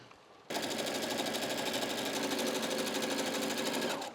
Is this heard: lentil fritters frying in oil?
no